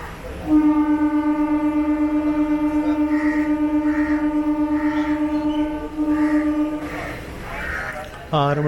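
A passenger train's horn sounds loud and close as it departs a platform at Tiruppadirippuliyur, one long sustained blast lasting several seconds with a short second burst, followed by rumbling station noise.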